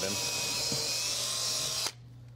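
A power drill bores holes into a stop-motion animation set, a loud steady high whine with a low motor hum running for nearly two seconds before stopping sharply, leaving a quiet hum.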